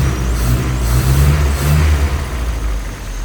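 A warmed-up 1963 Triumph TR4 roadster engine with twin Stromberg carburetors runs near the open hood, a low, steady rumbling idle with slight swells in loudness.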